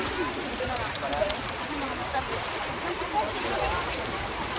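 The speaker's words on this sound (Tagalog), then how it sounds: "Napakalakas po ng alon." Strong waves and rushing water during a difficult river crossing, a continuous broadband roar of churning water, close and fairly loud with slight surges, and faint voices mixed underneath.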